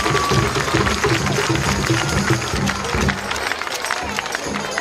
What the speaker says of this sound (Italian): Fate un applauso a lei, tutto lei.